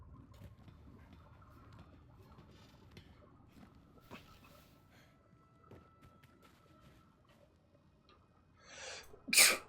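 A single loud sneeze bursts out near the end, following a long stretch of quiet, low background sound.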